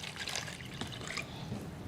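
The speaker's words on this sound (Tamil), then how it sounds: "தண்ணி ஊற்றிடுவோமா?" Two cups of water pour into a cooking pot, a steady close splashing trickle with small drips running throughout.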